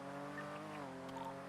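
A car in GTA NoPixel brakes with a brief, faint tire squeal over a steady engine hum, lasting just over a second.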